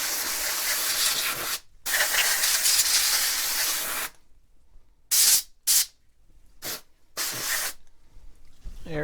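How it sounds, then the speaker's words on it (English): Compressed air hisses over the keys of a TRS-80 Coco 2 keyboard: two long, loud blasts, then several short sharp puffs separated by near silence. "now we'll give the keys a little spray out with some compressed air"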